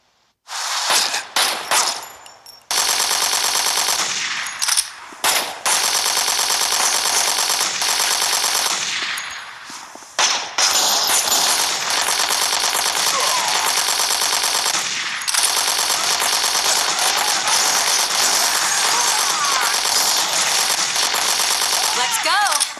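Rapid machine-gun bursts and gunfire in the video game Gangstar Vegas, loud sustained volleys broken by short pauses, with game voices mixed in.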